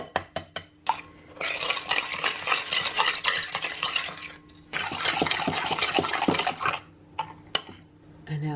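A spoon stirs stevia sweetener and an egg together in a bowl, giving two long stretches of steady, close scraping and clinking against the sides, with short taps at the start and end.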